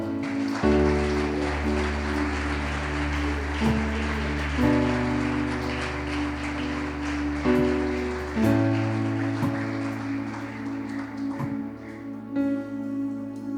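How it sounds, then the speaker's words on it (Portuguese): A church congregation applauding, a steady wash of clapping spread over the room, running beneath sustained keyboard chords throughout. "aplauda Ele."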